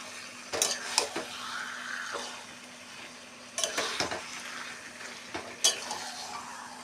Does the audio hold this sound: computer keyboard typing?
no